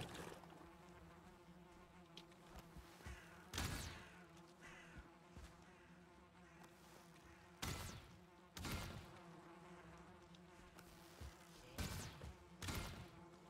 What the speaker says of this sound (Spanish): Se oyen moscas y de todo